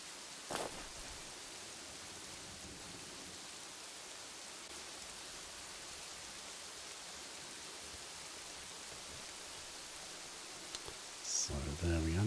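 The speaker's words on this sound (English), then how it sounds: "So there we are. Now it's raining." Steady rain hisses through a rainstorm in the city-building game Kingdoms and Castles, an even wash of pattering droplets lasting the whole stretch, with a couple of brief clicks and a louder burst near the end.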